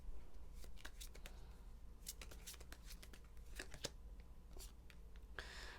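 Tarot cards are shuffled and drawn by hand in a quiet room, giving a series of soft, close riffling flicks and slides over a faint steady hum, with no talking.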